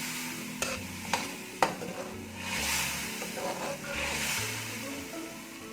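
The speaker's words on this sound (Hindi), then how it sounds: "हमारा दही भी जा चुका है और इसको फिर दोबारा से भूनेंगे" Green beans and potatoes fry with yogurt in a pan, a steady close sizzle broken by several sharp spatula scrapes and clacks as the mix is stirred and turned.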